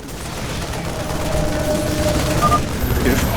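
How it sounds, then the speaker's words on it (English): Loud, continuous rapid-fire gunfire from a pylon attack in StarCraft II: Legacy of the Void, with dense bursts building slightly over a few seconds. "Our pylon is under attack."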